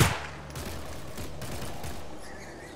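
Gunfire in the STALKER Anomaly video game: a sharp crack at the start, then a faint, distant volley of rapid shots decaying into a quiet ambient hiss.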